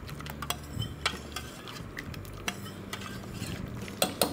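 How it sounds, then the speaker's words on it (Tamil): A spoon stirs a pot of cooked ridge gourd and lentil curry, making irregular clacks and scrapes against the metal over a soft background hiss, close by with no talking. "இவனையும் நல்லா கிளறி விடுங்க."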